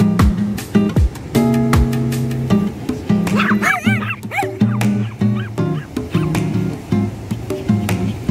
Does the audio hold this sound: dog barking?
yes